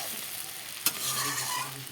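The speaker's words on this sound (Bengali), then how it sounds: "ভাজাটা আরও কিছু সময় লাল লাল করে ভেজে নেব।" Food frying in a pan with onions and green chilies nearby, a constant close sizzle broken by one sharp scrape or clack about midway, with no voices.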